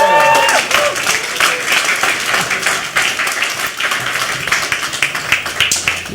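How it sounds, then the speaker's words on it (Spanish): Church congregation applauding loudly, dense steady clapping with some crowd voices mixed in, fading slightly toward the end. "¿Por qué no le damos un aplauso a Dios"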